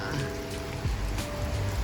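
Heavy rain pours down in a flood-hit area on the Thai-Lao border, a dense, steady hiss of drops hitting surfaces with no voices.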